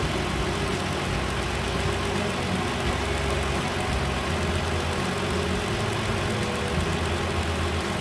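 A 3.5-liter engine in a 2011 Hyundai Santa Fe GL Sport AWD idles steadily after installation, a close, continuous low rumble with a faint knocking texture running evenly throughout.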